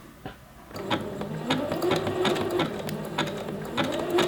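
Sewing machine running with a short stitch length while sewing an elastic waistband seam, a steady close mechanical whir with rapid needle ticking that starts after a brief pause and continues without letup.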